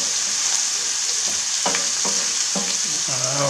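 Onions sweat and sizzle in a pan, a close, even frying hiss with several soft scraping stirs of a utensil, no talk.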